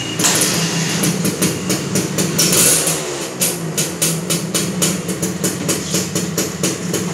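A Xipo motorcycle engine revs loudly and steadily, its rough drone broken by rapid pulsing bursts of throttle throughout.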